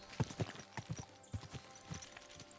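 Horse hooves clip-clop in Kingdom Come Deliverance 2, a medieval role-playing game, with about seven or eight distinct hoof falls in an uneven walking rhythm, close and moderately loud, with no talk over them.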